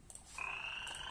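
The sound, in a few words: frog croaking sound effect played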